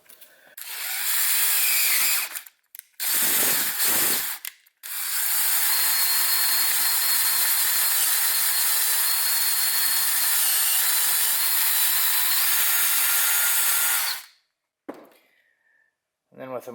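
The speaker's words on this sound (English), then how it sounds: "I'm going to go ahead and tap these holes." Hand or power tapping of threads into pre-drilled holes in brake line axle clamps for a Ford 8.8 rear axle, a loud sustained grinding whir in several bursts with pauses between.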